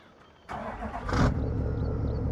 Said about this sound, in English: Ah, good sound of a Chevy.